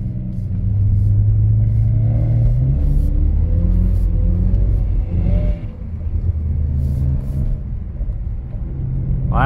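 A car engine roars close by during winter drifting, revving up and down as it slides through corners, its pitch rising and falling under a constant heavy rumble.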